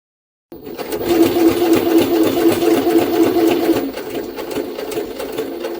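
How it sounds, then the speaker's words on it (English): A Jaguar SJ-23 sewing machine with a regular needle stitching through four layers of leather, starting after a brief silence and running loud and steady, then easing slightly in the last seconds. "Let's continue sewing."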